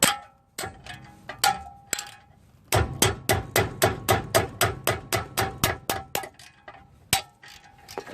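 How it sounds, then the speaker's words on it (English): Sharp metallic hammer clangs ring out, then a fast run of rhythmic ratchet clicks, followed by a few more clangs, loosening bolts on a 1999 Toyota Tacoma lower ball joint; close and crisp. "use a hammer and your ratchet, take these off here."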